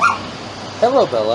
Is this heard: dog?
yes